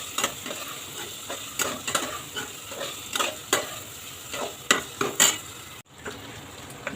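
Potato, carrot and cauliflower pieces sautéing in a hot pan: steady sizzle with repeated scraping stirs and clinks of a utensil against the pan, close and fairly loud, no talking.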